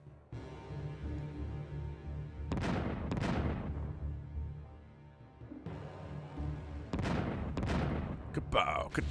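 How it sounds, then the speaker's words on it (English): Reaver scarab explosions in the video game StarCraft Brood War come as pairs of sharp blasts with rumbling tails over a steady low game din, moderately loud. "You get to throw explodey blue balls at the enemy Zerg and make them explode."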